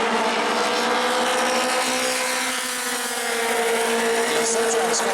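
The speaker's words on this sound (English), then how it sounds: "These advanced 4-cylinder cars that scream down these straightaways." Advanced 4-cylinder race cars scream down the straightaway at a New Smyrna heat race, a steady loud high-pitched engine roar with a broad wash of noise that holds for the whole stretch, slightly dipping midway.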